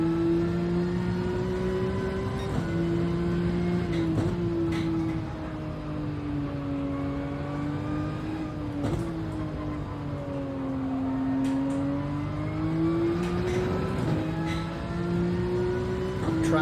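A Porsche GT3 race car on the wet Nürburgring Nordschleife in a racing game, its engine droning steadily and rising and falling with brief gear changes, while someone talks over it at times.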